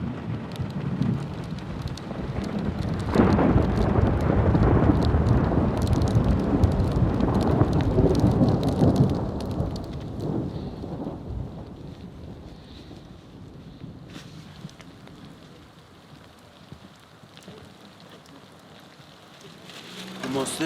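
Heavy rain and gusting wind roar across a high mountain pass during a violent thunderstorm on a bikepacking race route, loud and dense for the first ten seconds, then easing to a steadier, softer wash of rain.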